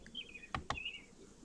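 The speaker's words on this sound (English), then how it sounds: "do you hear those birds chirping?" Faint high chirping calls drift in and out over quiet background, with two short sharp broadband taps in the middle.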